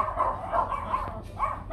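Puppies bark and yip in short, repeated bursts, fairly close, over a steady low background hum.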